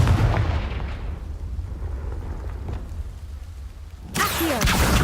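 A blasting spell explodes in the Hogwarts Legacy video game, a heavy booming burst that rumbles and fades, followed by another sharp burst near the end.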